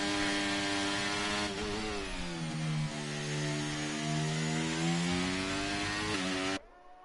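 Onboard engine of a formula racing car in the F1 23 game at the Qatar circuit: a loud, continuous buzzing whine that holds steady, dips and climbs in pitch, then cuts off abruptly near the end.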